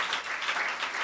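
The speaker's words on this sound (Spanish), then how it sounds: "Dale un aplauso fuerte al Señor." A church congregation claps for the Lord, a brief burst of fairly faint, even applause that fills the short moment without talk.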